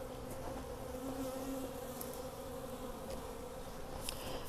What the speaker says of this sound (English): I know that those nurse bees will have traveled up to be on those brood frames